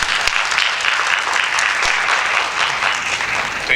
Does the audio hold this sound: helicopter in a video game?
no